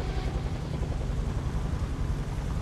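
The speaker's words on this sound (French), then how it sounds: "Oh, il y a l'hélico, putain." Helicopter in the video game Days Gone gives a steady, loud, low rotor rumble with broadband engine noise that holds without pause throughout.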